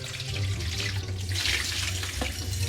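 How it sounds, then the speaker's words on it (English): Water runs steadily from a kitchen tap into a sink, a continuous close hiss and splash at constant strength with a low hum beneath, and no one speaking. "Turn on the water?"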